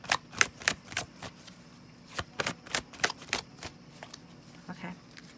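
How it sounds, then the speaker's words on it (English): Tarot cards are shuffled by hand, giving bursts of quick riffling clicks and slaps close by, uneven in rhythm with short pauses between handfuls. "I was just going to shuffle and then cut, but then the cards start flying out."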